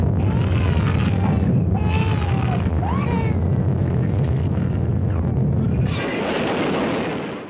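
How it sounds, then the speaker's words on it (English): A thermonuclear explosion blast wave in the film The War Game, a heavy continuous low rumble and roar with shrill wailing cries over it, swelling again near the end before fading out. "The blast wave from a thermonuclear explosion has been likened to an enormous door"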